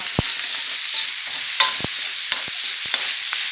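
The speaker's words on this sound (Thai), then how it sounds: "ผัดให้เม็ดข้าวกระเด้งเลยค่ะ เนี่ยต้องขอบกระทะเลย" Egg fried rice being stir-fried in a wok, with a steady background sizzle and several sharp scraping and clanking strokes of a spatula against the pan, no talking.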